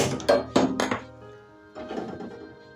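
A wok set down on a gas stove in a home kitchen: a few quick metallic thunks and clanks close by within the first second, then a softer rattle and faint clatter.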